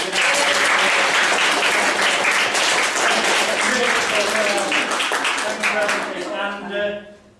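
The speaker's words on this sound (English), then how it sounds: "Can we also have a round of applause for Sue for organising this weekend?" A room of workshop attendees at a hypnosis and NLP bootcamp applauds loudly and steadily for several seconds, with voices mixed into the clapping before it tapers off at the end.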